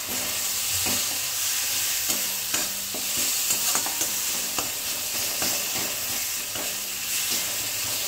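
Chicken fries in turmeric, with a dense, even sizzle close by and soft scrapes and knocks as the pieces are stirred in the pan.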